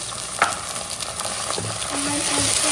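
Ginger garlic paste sizzling in a pan with sautéed onions, a steady close frying hiss with scraping stirs and a sharp clatter early on, the sizzle growing slightly louder toward the end.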